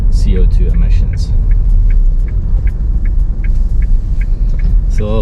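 Car interior while driving in town, a loud low engine rumble and road hum running throughout, with a rhythmic ticking like an indicator and someone talking over it.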